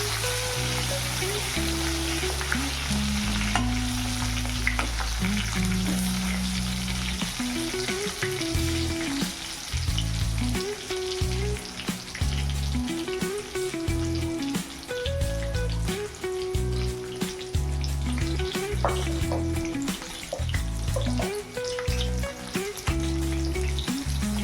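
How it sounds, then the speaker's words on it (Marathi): Stuffed eggplants fry in oil in a wok, a continuous close sizzle with frequent spatula scrapes and clanks against the metal throughout; no voices. "त्याच्यामध्ये आपल्याला भरलेली वांगी छानपैकी भाजून घ्यायचे आहेत।"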